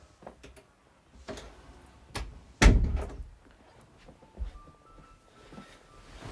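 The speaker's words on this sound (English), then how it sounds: "I need to close my door because my cat's moaning" A home bedroom door closes with one solid thunk in the middle, set among a few fainter knocks and clicks in an otherwise quiet room.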